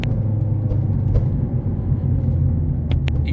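Ford Focus 1.6 HDi diesel engine with a throttle-cut fault, running with a steady low rumble that rises slightly as it is revved, heard up close with no talking.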